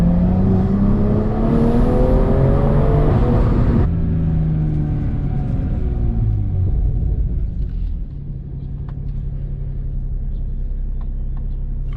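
A 2020 BMW M340i pulls hard under throttle, the engine rumbling loudly through rising revs, then a gear change and lift-off bring turbo flutter chatter before the car settles into a lower steady drone.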